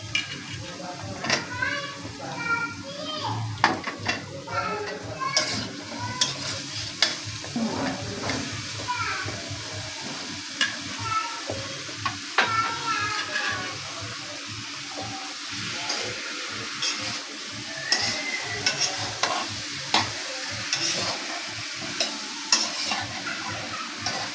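Vegetables being stir-fried with spices, new potatoes and pointed gourd, for a snakehead fish curry, with a sizzle and a spatula scraping in irregular strokes up close, while running water and occasional voices are heard in the background.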